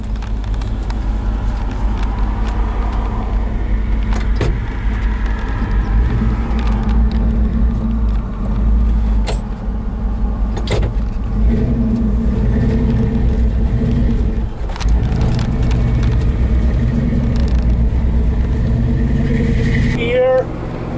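A 1968 Ford F250 truck engine runs loud and steady through a road test drive, its mid-range rumble continuous throughout, with people talking over it.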